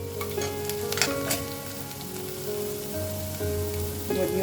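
Finely chopped vegetables, including carrot and green chili, fry in a pan with a steady, dense, rain-like sizzle and occasional stirring, heard close and alone.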